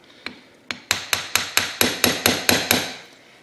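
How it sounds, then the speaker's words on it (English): A hammer taps a valve stem oil seal into place on an engine about a dozen times in a steady rhythm, the strikes growing quicker and sharper, ringing with a bright ping. "So I'll tap it, and when it's fully seated, you'll hear it starting to ping a little harder."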